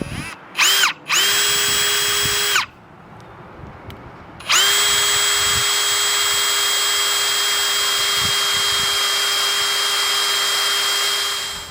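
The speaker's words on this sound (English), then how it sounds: "Okay, so you see we got one hole drilled." A power drill bores a hole through a workbench, running in two sustained loud bursts after a few short trigger blips, with a brief quieter pause between them.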